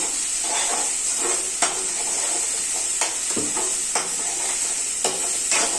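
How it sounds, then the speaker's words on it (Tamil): Chicken gravy masala sautés in a pan with a constant gentle sizzle, while a spatula scrapes and taps against the pan at irregular intervals, close and clear. "இது கொஞ்சம் நல்லா வதங்கட்டும்"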